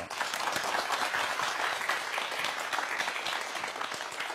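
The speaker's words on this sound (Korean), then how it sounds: "큰 박수로 환영해 주세요" Studio audience applause welcoming a Hanji paper craft artist onto a Korean science program, an even, steady rush of many hands clapping at moderate level, unbroken by speech.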